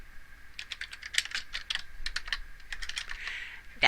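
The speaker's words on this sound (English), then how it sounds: "now I go ahead and type it out like that" Quick, uneven clatter of fingers typing on a computer keyboard, close and fairly quiet, with bursts of keystrokes and short pauses.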